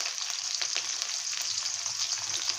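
Capsicum sizzles steadily in a hot pan while chicken chilli is cooked, a close, constant frying hiss with small crackles throughout and no talking.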